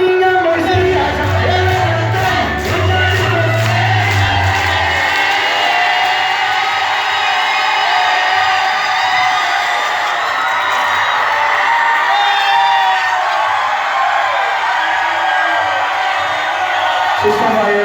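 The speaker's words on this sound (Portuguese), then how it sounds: "eu quero ver quem canta mais alto" A large concert crowd at a Brazilian show sings together loudly, a dense sustained mass of voices with shouts and whoops, filling the whole span at full volume with a heavy low rumble early on.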